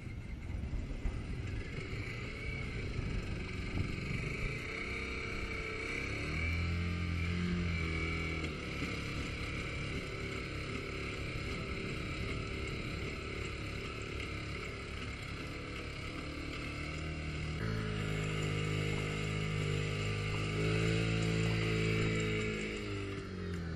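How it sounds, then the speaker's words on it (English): An engine runs steadily on the LS3 legged robot support system, a continuous droning hum that shifts pitch as load changes, moderately loud and with no voices. "Starting engine."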